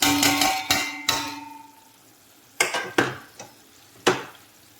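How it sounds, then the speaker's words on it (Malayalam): Mashed potato is stirred into frying onion masala in a pan, giving a sizzle under several sharp, close spatula knocks and scrapes that come in irregular bursts, the sizzle fading between strokes. "അതിലേക്ക് ഞാൻ ഈ ഉടച്ചെടുത്ത കിഴങ്ങാണ് ചേർത്ത് കൊടുക്കുന്നത്."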